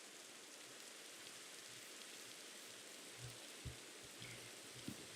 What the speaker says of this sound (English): The only thing that's playing right now that I hear is rain.